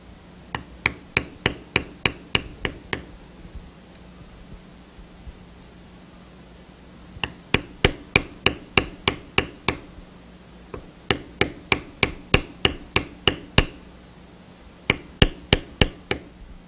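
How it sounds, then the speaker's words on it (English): A checkered beveler tool is struck on leather during carving, making quick, evenly spaced taps in several runs of about ten strikes each, with short pauses between runs and a faint hiss underneath. "As I continue beveling down here in around the feet, I've switched to the smaller of the checkered bevelers"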